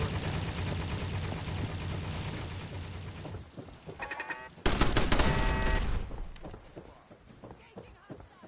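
Minigun fire in Fallout 4, loud sustained bursts of rapid gunshots that stop, then resume as a louder burst midway before fading, with someone talking over the firing.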